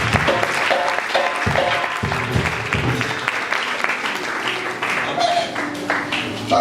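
A church congregation applauds in praise of the Lord, giving sustained clapping with voices mixed in throughout, fairly loud and close.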